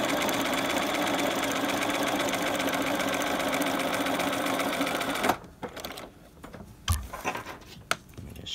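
Sewing machine stitching piping near a corner of fabric runs with a steady rapid whir for about five seconds, then stops, followed by soft handling clicks and fabric rustling.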